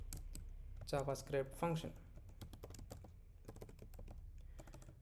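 Rapid irregular keystrokes on a computer keyboard while writing JavaScript code, the clicks running steadily under a voice that talks through the first part.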